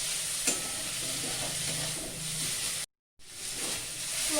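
Vegetables for sambar dal sizzle softly in hot oil while a spatula stirs them, with a few scraping clicks and a short break of silence partway through, close and fairly quiet.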